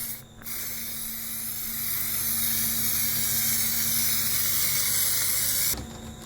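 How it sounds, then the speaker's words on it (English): Spray adhesive hisses from an aerosol can onto cut silk appliqué pieces in one long, loud, continuous burst of about five seconds, starting and stopping abruptly. "the pieces that I want are sprayed with a spray adhesive ready to apply to the main fabric"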